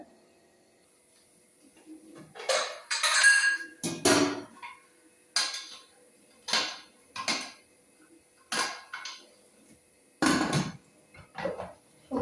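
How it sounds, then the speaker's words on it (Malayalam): A puttu cooker is set onto a stove amid a series of separate metallic clanks and knocks, about eight or nine distinct hits spaced irregularly against near silence. "നമുക്ക് ഒരു കുക്കർ സ്റ്റൗവിലേക്ക് വെക്കാം"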